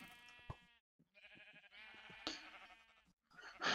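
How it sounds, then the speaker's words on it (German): Sheep bleating in a video game, several wavering harmonic bleats with short gaps between them, loud and close, with game sounds bursting in near the end. "Hey, das Schaf, geh mal raus."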